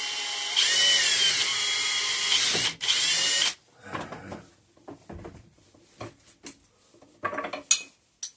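A power drill whines loudly for about three seconds with a brief break, then stops, followed by scattered clicks and handling clatter.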